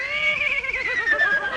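A man imitates a horse's neigh with his voice, giving a loud, wavering whinny that warbles for over a second, close and alone.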